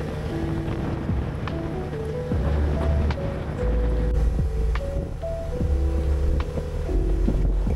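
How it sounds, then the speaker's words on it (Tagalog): A steady low boat engine drone rumbles on with strong wind rushing across the microphone, no voices heard, on an island tour boat at Gigantes Islands. "maririnig lamang ang malakas na ugong ng makina at malakas na ihip ng hangin"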